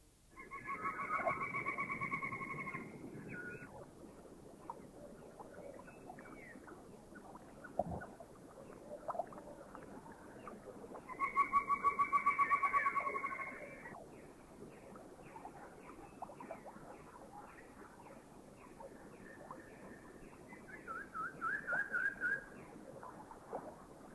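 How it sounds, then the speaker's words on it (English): Rufous Woodpecker calling in Thailand: several short bursts of repeated notes, with one stretch near the start and another midway, over a busy forest background of other birds and insects. "Number 29, the Rufous Woodpecker."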